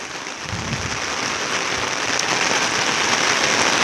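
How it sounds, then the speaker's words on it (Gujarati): Heavy rain pours down in Anand, a dense, even roar of water that holds steady and loud throughout with no voices. "ફૂલ વરસાદ આણંદમાં ફૂલ વરસાદ છે"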